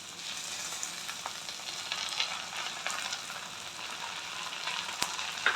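Egg and prawn chowmein frying in a hot pan as a sauce of chili, tomato and soy sauce with vinegar goes in, a steady broad sizzle with a few stirring clinks, close and without talk.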